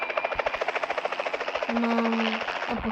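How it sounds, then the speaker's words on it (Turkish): Rapid rhythmic thumping of helicopter rotor blades in the game PUBG Mobile, loud and steady, with a rising engine tone joining in partway through. "Helikopter de çok hızlı."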